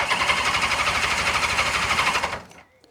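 An old car engine, left standing for 20 years, cranks and turns over with a steady, rapid rhythmic churning for about two seconds, loud and close, then cuts off into near silence.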